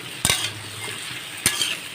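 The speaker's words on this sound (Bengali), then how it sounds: "ডাঁটা আলু কুমড়োটা ভাজা ভাজা হয়ে এসছে" Malabar spinach stems with potato and pumpkin are stirred in a frying pan, giving a soft steady sizzle broken by two sharp scraping stirs close by, with no talking.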